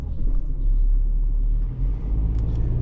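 Car cruising at night, heard from inside as a deep, steady engine rumble and road drone, fairly loud with a slight dip and swell partway through; no talking.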